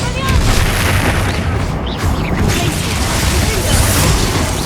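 A Confringo fire-spell explosion in Hogwarts Legacy, a loud, sustained roaring blast with heavy low rumble that fills the whole stretch without letting up.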